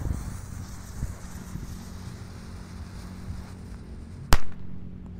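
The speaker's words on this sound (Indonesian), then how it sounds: "di sini ada mercon telur burung. Oh, bisa mutar guys." A spinning bird-egg firecracker, set off outdoors among other fireworks during Ramadan, pops once sharply and loudly near the end after a stretch of wind rumble.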